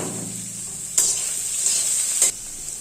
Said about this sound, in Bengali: এখন হালকা করে একটু হলুদ দিয়ে দিচ্ছি, হালকা করে দিয়ে তারপর একটু ভেজে নেব